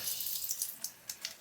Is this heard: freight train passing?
no